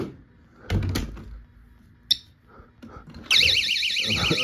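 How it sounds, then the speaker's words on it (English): A door alarm in a small living space sounds off abruptly after some knocking and a sharp click, a loud, steady warbling electronic tone that holds to the end. "You got your alarm that goes off."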